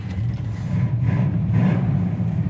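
A 1978 Camaro Z28 V8 revs steadily up close, a loud, continuous mid-pitched engine roar with a slight surge toward the end.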